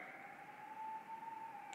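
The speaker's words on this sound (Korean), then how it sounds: "멀리서 사이렌 소리가 들리네요." A faint siren wails from far away, a thin steady tone drifting slightly in pitch behind quiet room noise.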